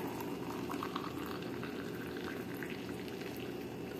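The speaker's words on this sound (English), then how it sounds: "let's pour the boiling water." Boiling water pours steadily into a bowl of cereal, making a soft, continuous bubbling gurgle, quiet and close, with no voices.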